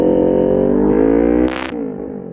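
Kawasaki Ninja 400 motorcycle engine revving up to a loud steady high-pitched drone, then dropping off abruptly with a brief burst of exhaust noise and settling to a lower idle.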